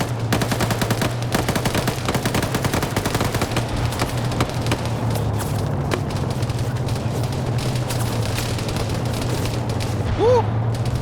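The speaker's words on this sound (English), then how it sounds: "That is a lot of inbound fire" Heavy gunfire in a combat video game, a dense rattle of rapid automatic shots and booms sustained throughout under a steady low drone, with occasional voice-like sounds mixed in.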